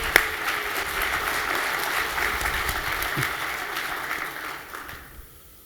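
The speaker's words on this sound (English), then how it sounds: "So round of applause for our panelists as we close out." Audience applause for the panelists at an Irish Unity Summit, a broad, steady clatter of many hands that carries evenly before tapering off and dying away near the end.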